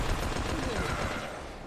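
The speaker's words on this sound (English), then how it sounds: "One shot immediately unloads 50 billion shots into his corpse" Rapid gunfire in Final Fantasy XV, a dense burst of overlapping shots rattling at a steady loud level for under two seconds.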